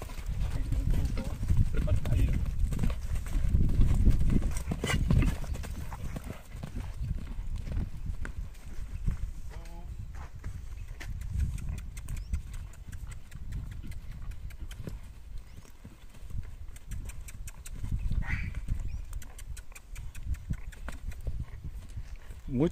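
A vaquejada horse clip-clops steadily while ridden and trained in its paddock, hoofbeats rhythmic and fairly close, with someone talking over much of it.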